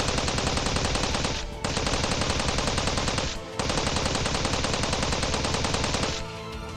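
Sustained rapid machine-gun fire from the video game Steins;Gate 0 rattles loud and dense in two long bursts separated by brief pauses, with a third burst starting near the end, and no voices.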